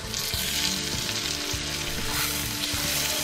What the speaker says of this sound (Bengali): টমেটো কুচি দিয়ে আমি আরও 2 মিনিট ফ্রাই করে নিচ্ছি